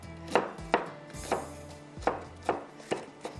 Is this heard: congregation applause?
no